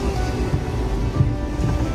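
Sea waves wash in at Hidrovor Beach in Albania, a steady close rush of surf with low rumbling surges and some wind buffeting the microphone, no voices.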